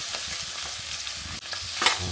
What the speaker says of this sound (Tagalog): Sa mainit na mantika, lagay lang natin yung mga sibuyas.